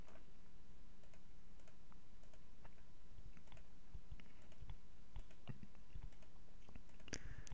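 Computer mouse clicks while selecting lines in animation software, a series of sharp, close, irregularly spaced clicks, fairly quiet, with a busier cluster near the end.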